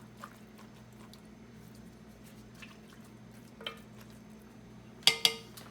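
Chopped onions, garlic, green pepper and red pepper tipped into a cooking pot, giving a few faint scrapes and soft clinks, then a sharp, close clatter of utensil on pot near the end.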